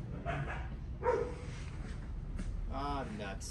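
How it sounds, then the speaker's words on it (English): A dog barks a few times somewhere inside a store with yellow floor tiles, heard at a moderate distance and mixed with nearby people talking. "Sounds like somebody brought a dog in."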